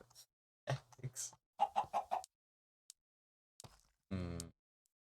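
A Minecraft chicken clucks in short bursts of clipped, close calls separated by quiet gaps, ending in one longer squawk, with no talking over it.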